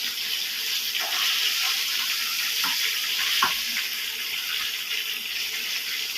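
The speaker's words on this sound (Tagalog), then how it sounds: "Nagpiprito po tayo ng isda makarel." Mackerel frying in a pan, a steady broad sizzle and hiss throughout with a few faint clinks, close and fairly loud, no talking.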